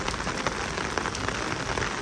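Steady rain pours at a beach resort by the sea, a dense even hiss of drops hitting surfaces with no pauses and no voices.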